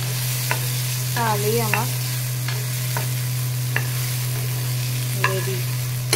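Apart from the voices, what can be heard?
stirring boiled taro with salt and turmeric in pan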